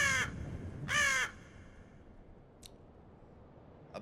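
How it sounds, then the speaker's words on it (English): A crow outside caws twice in Spirit Hunter, two harsh, loud calls close together, followed by quiet broken by a brief faint click. "There's a crow outside."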